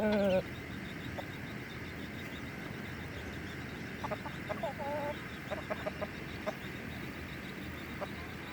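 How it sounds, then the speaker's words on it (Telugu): Hens cluck faintly and intermittently in a farmyard where mother hens tend hatched chicks, with short, scattered calls heard at a distance against quiet background noise. "కోళ్ళు గుడ్డు ఎత్తుకుంటున్నాయండి"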